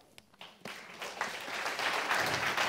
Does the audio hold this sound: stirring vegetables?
no